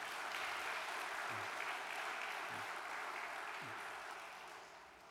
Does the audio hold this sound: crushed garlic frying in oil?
no